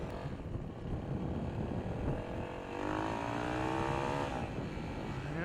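A Yamaha WR450 supermoto engine held at light to mid throttle, running at a steady, fairly faint drone that rises slightly in pitch midway and then settles.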